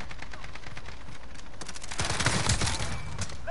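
A platinum submachine gun in a video game fires rapid, closely spaced rounds in a continuous chatter. The fire grows louder and denser partway through, and no one speaks.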